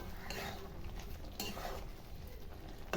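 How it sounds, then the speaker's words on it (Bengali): Chicken being stirred with spices in a pot for chicken nihari, a steady close scraping and clatter of a spoon against the pot running through the whole stretch, with no voices. "এবার মাংসটা, মশলাটা ভালো করে আমি লেড়ে নেবো"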